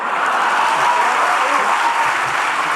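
An audience claps steadily in honour of a speaker at a Rekhta Gujarati event, dense, sustained applause from a large crowd, even and loud throughout.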